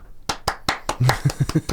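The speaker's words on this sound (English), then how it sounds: "I just clap at the end of Xanadu." Hands clapping in a steady run of about nine sharp claps, close and fairly loud, with a voice briefly sounding beneath the later ones.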